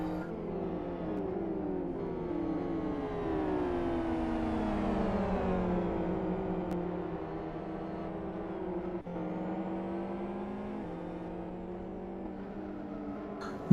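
Super GT race cars lapping at a circuit, a steady engine drone with pitch sweeping down then rising as cars pass, moderately distant and continuous with no talk over it.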